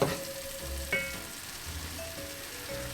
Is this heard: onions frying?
yes